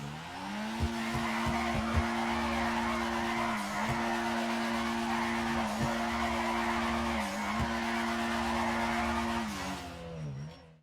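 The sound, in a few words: car drifting with tires skidding in GTA 5 video game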